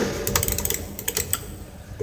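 Keys clatter in irregular bursts as someone types on the keyboard of a Samsung NP270E4V laptop, close and moderately loud, with no voices.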